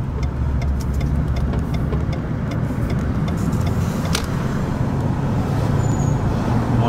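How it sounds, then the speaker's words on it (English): A car drives along a town street in Ambridge, Pennsylvania, its steady engine and tyre rumble carrying throughout with continuous road noise and no talking. "We're going to take a drive down this way."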